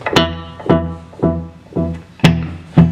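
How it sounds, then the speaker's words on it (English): A VFE Yodeler delay pedal is set to its maximum delay time. A single guitar pluck repeats as a string of evenly spaced echoes, about every half second, each one sharp at the onset and then decaying. "Here's just the maximum delay time for the curious."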